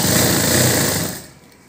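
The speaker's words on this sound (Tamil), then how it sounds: "இந்த மாதிரி வச்சுக்கிட்டு இப்போ நம்ம தச்சிடலாம்" A sewing machine runs steadily while stitching the seam of a close-neck blouse, a loud continuous whir that slows and fades out over the last half second.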